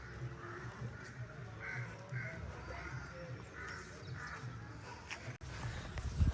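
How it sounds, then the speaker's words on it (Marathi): Crows cawing repeatedly in a quiet mountain setting on a trek, with faint chirps from small birds nearby and a soft rustle toward the end. "पक्ष्यांचा आवाज आहे, कावळे आहेत बऱ्यापैकी, आणि इतर असे छोटे छोटे चिमण्यांसारखे आवाज आहेत"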